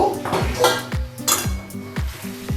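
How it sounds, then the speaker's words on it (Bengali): Boiled jackfruit tipped into a pan of cooked spice paste, a quick run of metal spoon clinks and knocks against the pan with ringing tones, close and rhythmic, over a faint sizzle. "এখন আমি এর মধ্যে যে এঁচোড়গুলো সেদ্ধ করে রেখেছিলাম সেই এঁচোড়গুলো দিয়ে দেব"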